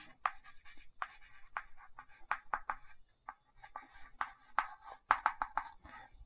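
Pen or marker writing out a symbolic definition during a set theory lecture, scratchy strokes and taps in irregular bursts, close and moderately loud, with no talk over them.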